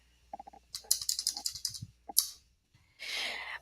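Computer mouse clicks on a website editor page, a quick run of light taps followed by a longer cluster of clicks, then a brief burst of hiss near the end, close and fairly faint.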